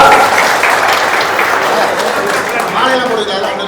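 Dense, loud applause from a large audience at a public meeting in Salem, steady clapping filling the whole stretch with a faint murmur of voices underneath.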